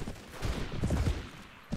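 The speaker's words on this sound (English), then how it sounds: "Old man, fire! We shot two of them, fire, Will," Musket volley in Mount & Blade Warband, an 1860s American battle: a muffled, rolling burst of several shots crackles together in the middle, with another report at the very end, distant-sounding amid battlefield noise.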